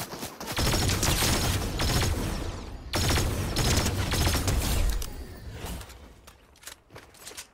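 Rapid gunfire in the Fortnite video game: dense bursts of shots crackling loudly for several seconds, a brief gap, another sustained volley, then the firing thins out to a few scattered shots near the end.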